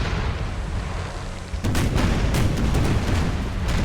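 Cannons firing chain shot during a Portugal battle in Empire 2 Total War, a dense, rumbling roar of booming artillery that swells sharply partway through into rapid overlapping blasts.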